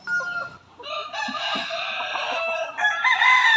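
A six-month-old stag, a young rooster, clucks and then gives a close, loud, sustained crow that breaks into a rising final note.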